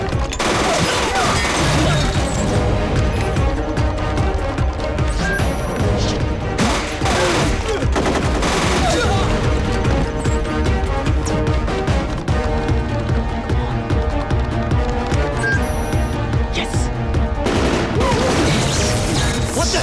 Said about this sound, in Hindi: रिजवान, मुझे गोली चलाने किसने सिखाई?